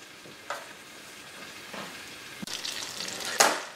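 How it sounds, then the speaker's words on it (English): Butter and sugar melting in a pan, a quiet steady sizzle broken by a few brief stirring scrapes and a louder burst of frying near the end, no talk. "The butter and the sugar are nicely melted down."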